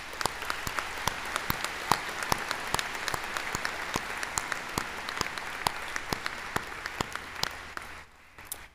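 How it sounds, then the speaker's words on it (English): An audience at a college convocation ceremony gives sustained applause, with many hands clapping and distinct sharp claps standing out, before it tapers off near the end. "And for that, you deserve our applause."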